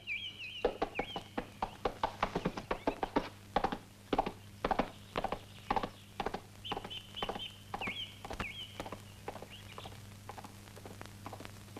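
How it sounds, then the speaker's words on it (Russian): A horse's hooves trample and stamp on the ground in a 1973 film scene, giving a string of irregular, close thuds and clops, with a faint high tone running beneath. "Сэр, попросите свою лошадку не топтать мой ужин."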